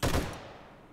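A single gunshot fires in the zombie survival game 7 Days to Die: a loud, close report with a sharp attack and a brief reverberant tail fading out under a second.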